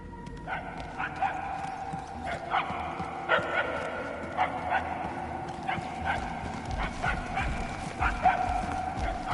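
A dog barks repeatedly from a distance, the faint, evenly spaced barks carrying over a steady background rumble.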